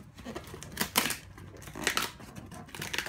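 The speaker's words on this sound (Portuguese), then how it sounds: "a tesoura é muito grande." Large scissors cutting open the packaging of an Iron Studios Deadpool statue: a few rough snipping and crinkling bursts of plastic and cardboard, close and fairly loud.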